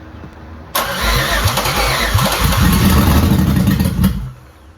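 Chevrolet Malibu car engine cranking and catching after a repair, then running loud and close for about three seconds with a brief rev before shutting off and fading.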